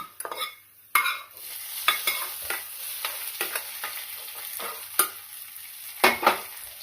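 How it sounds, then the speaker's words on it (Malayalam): Roasted mustard tempering stirred into a ginger curry, with a series of spoon scrapes and knocks against the pan over a faint sizzle, close and moderately quiet. "കടുക് വറുത്തത് ഇഞ്ചിക്കറിയിലേക്ക് ചേർക്കാം."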